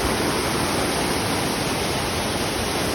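A waterfall at Kygal water falls roars with dense, constant rushing water, loud and steady throughout with no voices.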